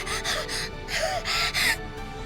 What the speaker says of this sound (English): I roughly gasp for air, panting like a dog